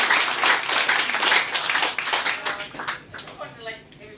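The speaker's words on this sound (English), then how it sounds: "I would like everybody to give a round of applause to our 3 councillors" Audience applause at a public meeting for a wellness and tourism gardens project, a dense, steady wash of many hands clapping close by that thins out toward the end, with voices mixed in.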